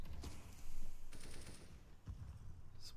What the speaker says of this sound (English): Gunshots elsewhere.